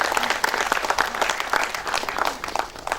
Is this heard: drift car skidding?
no